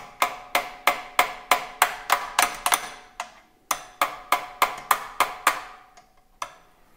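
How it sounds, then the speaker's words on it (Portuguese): Sharp metallic taps from a small metal hammer striking the outside of a metal tone-hole chimney, about a dozen evenly spaced blows, a short pause, then another run of taps fading out. "eu vou com um martelinho de metal aqui por fora"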